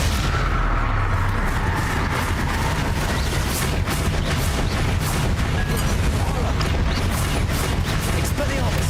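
Explosive Bombarda spell blasts in a Hogwarts Legacy wand mastery battle against Rookwood, a dense, continuous roar of booming impacts and battle noise with overlapping voice sounds throughout.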